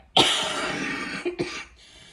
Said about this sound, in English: the cough is still going